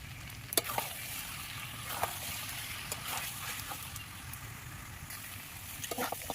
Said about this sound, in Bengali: এইবার আমি দিয়ে দেবো একটু গরম জল করে রেখেছি।